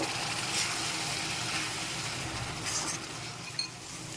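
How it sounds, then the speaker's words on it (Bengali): Spice masala being stirred and fried in oil in a pan for green chilli chicken, a soft continuous sizzle with occasional scrapes and a light metallic clink near the end, close and fairly quiet, no talking. "এখন ভালো করে নেড়ে চেড়ে আরও কিছুক্ষণ কষিয়ে নিতে হবে তেল ছেড়ে আসা পর্যন্ত"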